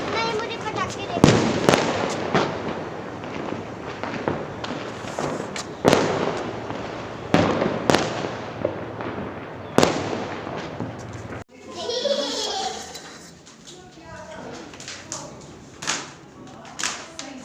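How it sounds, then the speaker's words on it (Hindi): Diwali fireworks and firecrackers burst in a rapid series of sharp, loud cracks and booms, with voices chatting underneath; the explosions stop near the end, leaving talk and quieter background. "नहीं, मुझे पटाखे देखो।"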